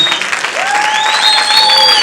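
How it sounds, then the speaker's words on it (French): A church congregation applauds and cries out in acclamation, dense steady clapping with rising sustained vocal shouts and whoops over it, loud and continuous throughout. "Est-ce qu'on peut honorer Dieu avec nos acclamations?"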